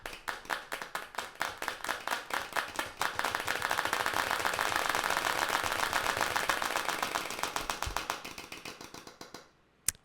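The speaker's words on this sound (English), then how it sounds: "Let's get some more claps." A small group claps in a steady rhythm, the claps building into a fuller burst of applause before thinning out and stopping abruptly.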